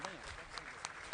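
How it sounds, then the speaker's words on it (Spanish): Crowd applause at a Liga Veracruzana de Béisbol game between Piñeros and Bravos, faint and steady, with an announcer's voice over it throughout. "Señores, fuertes los aplausos para don Che Fernández."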